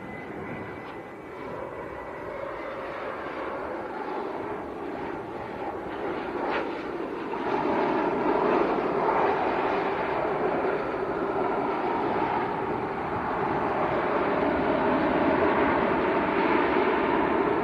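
A 28-year-old passenger airliner arriving from Alicante at Leeds Bradford Airport roars steadily as it lands and rolls down the runway, a broad engine rumble that grows louder midway and stays strong outdoors.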